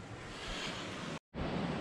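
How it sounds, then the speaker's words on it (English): A flowing creek beside a pop-up camper gives a steady broadband rush of water, loud and continuous, broken by one brief cut to silence before resuming. "Shouldn't have any problem getting to sleep right next to the creek like that."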